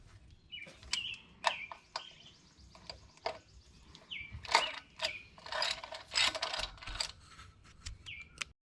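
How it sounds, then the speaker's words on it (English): A hand ratchet tightening flywheel bolts during a Dart GT six-speed clutch install: bursts of quick close clicking pawl strokes, with pauses between runs and squeaky metallic scraping, no talk. "I'm gonna grab a hand ratchet"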